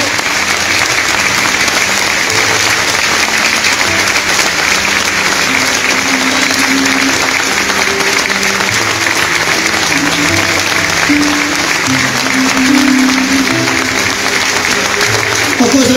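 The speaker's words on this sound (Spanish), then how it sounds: "Fuerte el aplauso para él." Loud, sustained applause from a large crowd honoring the late mayor of San Juan La Laguna, Guatemala, as his body arrives; steady clapping runs throughout with murmured voices and mixed background sound underneath.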